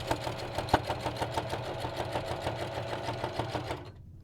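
A SINGER sewing machine stitches a fabric bowl cozy with a rapid, even rhythmic chatter, close and fairly quiet. One sharp click comes early, and the motor stops just before the end.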